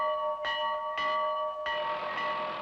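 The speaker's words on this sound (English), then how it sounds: "the bell signals a nuclear attack in these parts" A bell rung three times in a slow, steady rhythm, each clear metallic strike ringing on with bright sustained overtones and overlapping the previous decay, fairly close and loud with no voices.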